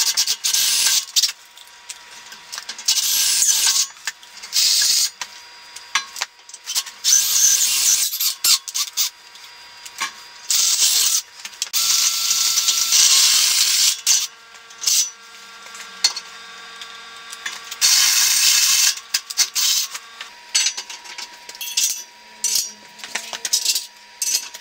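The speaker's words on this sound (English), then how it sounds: "now I'm just going to drill a 1/4 inch pilot hole" A high, grinding whine of a drill boring a 1/4 inch pilot hole into metal, close and loud, cutting in and out in repeated bursts with brief pauses.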